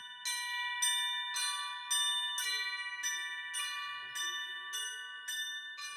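School chimes ring out in a steady sequence of about ten bright, resonant bell strikes, each with a sharp attack and lingering ring, played close and clear with no talking.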